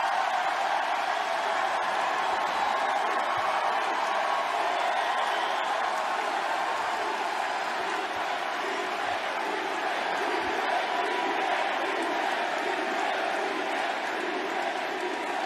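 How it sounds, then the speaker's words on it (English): A wrestling crowd at a pro match fills the space with steady, loud cheering and chanting voices, a dense roar that holds without a break throughout. "the crowd started chanting, "He's gay!" repeatedly at a match"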